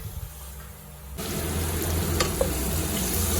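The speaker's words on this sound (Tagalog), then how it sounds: "ginisa na natin yung luya" Ginger hitting hot oil in a pan for mussel tinola, a quiet start then a sudden steady sizzle that keeps crackling close up, with a faint clink partway through.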